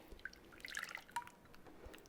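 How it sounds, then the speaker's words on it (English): Melted butter is poured into a new bowl for cookie dough, giving a few faint, scattered drips and a light trickle. These are quiet, close-up liquid sounds spread over about two seconds, with no voices. "We're gonna pour our melted butter in a new bowl."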